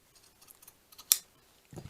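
Scissors snip once to trim a yarn tassel, a single sharp close cut after a few faint rustles, followed by soft handling noise in a quiet room.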